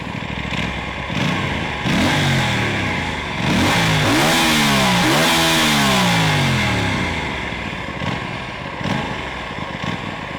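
An Aprilia RS457 motorcycle fitted with an SC Project exhaust is revved hard while standing, close and loud. Several sharp blips climb and fall between steady idle stretches, with no talking.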